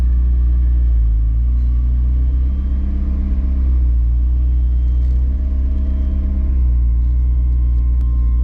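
A McLaren 650S rolling backward just after its parking brake releases, a steady close low engine rumble with slight shifts in pitch, no voices.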